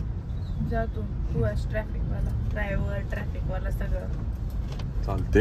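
Cars in weekend road traffic rumble steadily nearby, a continuous engine drone running under people talking throughout.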